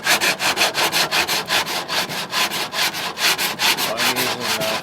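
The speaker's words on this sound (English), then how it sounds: "So now I'll let this dry and give it a sand." Body filler on a 1968 AMX gets sanded with 40-grit paper in quick, rhythmic back-and-forth strokes, loud and close, about four strokes per second with no talk.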